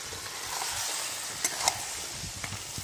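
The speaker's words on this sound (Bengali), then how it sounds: "এবার এর মধ্যে আমি আলু, চিংড়ি মাছ আর এঁচোড়টা অ্যাড করে খানিকক্ষণ কষে নেব" Steady hiss of potato, prawns and jackfruit sautéing in a hot pan, a continuous close sizzle with a few light scraping clicks from stirring, no voices.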